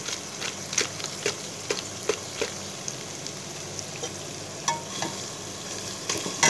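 Kabab biryani with biryani masala frying in a pan under gentle stirring: a constant sizzle broken by repeated scraping strokes of a spoon at a loose, uneven rhythm, close and moderately loud.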